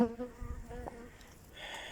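Weak honey bee colony buzzing faintly and briefly, a low droning hum that ends in a thin, higher whine.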